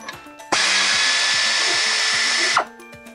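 Impact wrench loosening a rear brake bolt on an Audi Q5, a loud, close burst of about two seconds with sharp onset and stop, set against quieter clicking before and after.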